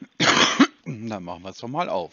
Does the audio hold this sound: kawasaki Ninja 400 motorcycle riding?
no